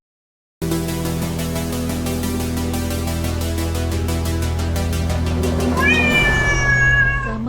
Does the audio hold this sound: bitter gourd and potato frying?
no